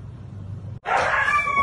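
A dog lets out a loud, sustained yelp or howl during a beating, starting abruptly after a brief silence and continuing at full strength to the end.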